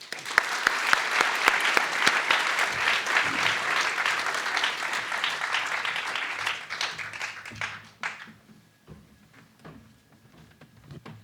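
An audience at an evening peace event breaks into loud, sustained applause that gradually thins out and fades to a few scattered claps and near quiet.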